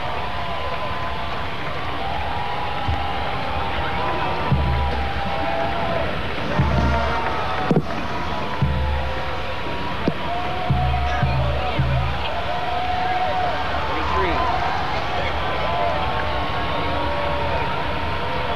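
A huge crowd cheers and roars for the Pope at the 1993 World Youth Day, a dense, continuous wall of distant voices and shouts, while a commentator talks steadily over it.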